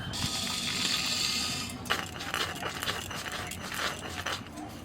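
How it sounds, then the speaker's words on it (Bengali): Roasted spices are ground for a raw mango pickle, producing scraping and crunching strokes up close. A smoother rushing stretch comes first, then a run of irregular gritty grinding bursts, with no talking. "ততক্ষণে ভাজা মশলাটা গুঁড়িয়ে নেব।"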